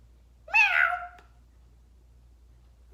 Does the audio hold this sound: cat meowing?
yes